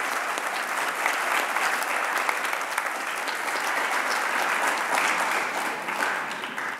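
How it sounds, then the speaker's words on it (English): A high school audience gives a final round of applause at a presentation day, a sustained, even roar of many hands clapping close and loud throughout. "One last round of applause"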